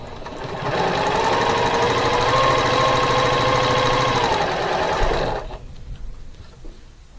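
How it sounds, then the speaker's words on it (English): A home sewing machine chain-piecing quilt fabric for a Valentine quilt runs in one steady, loud stitching whir for about five seconds, then stops abruptly, leaving quiet room tone. "I'm not going to break my thread, and I'm just going to keep sewing."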